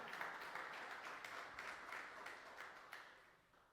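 A church congregation applauding during a morning worship service, a fairly faint, steady patter of many hands clapping together with slight rhythmic surges, fading toward the end.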